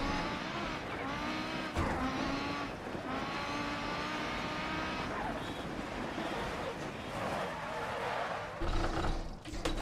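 An Audi Quattro rally car in Dirt Rally climbs Pikes Peak, its engine droning and revving steadily under a constant rush of wind and road noise.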